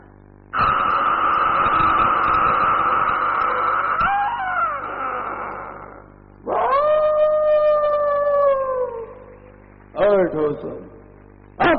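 A voice mimics a very old door creaking open, several drawn-out groaning and squeaking rises, loud and close, the last ones short and clipped.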